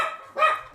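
Dogs barking in the background of a live online chat, two quick yappy barks in under a second, the second one louder and brighter.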